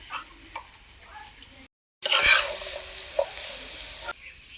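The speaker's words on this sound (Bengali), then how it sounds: "এখন হালকা হাতে নেড়ে চেড়ে একটু ভেজে নিতে হবে।" Raw papaya pieces stirred and fried in a pan, a crackling sizzle with scraping stirs that drops out briefly, then returns louder and busier before easing off.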